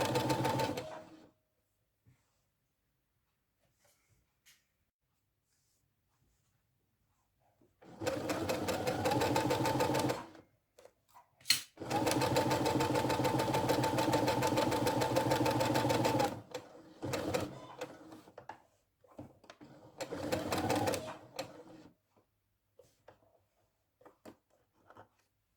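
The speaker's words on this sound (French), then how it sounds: "Donc là, j'ai fini de coudre." A sewing machine stitches a fabric care headband in several runs of steady mechanical whirring, each a few seconds long and separated by quiet pauses, with the longest burst in the middle and no voices.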